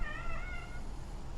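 A pet cat meows once, a drawn-out close call over a steady low background hum, with no talking.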